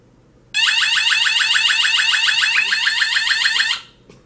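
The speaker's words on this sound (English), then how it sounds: "That's the alarm." A loud electronic motion sensor alarm in a home blares for about three seconds, a rapid warbling beep pattern that starts abruptly and cuts off.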